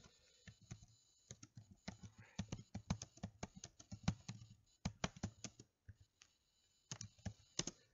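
An address is typed on a computer keyboard, producing quick bursts of crisp, close key clicks with short pauses between runs.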